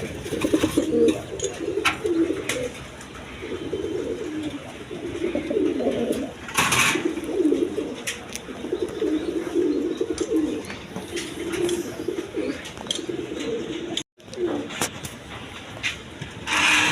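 Pigeons coo repeatedly at a pigeon seller's loft holding about a hundred birds, a steady low murmur of overlapping coos with occasional brief clatters.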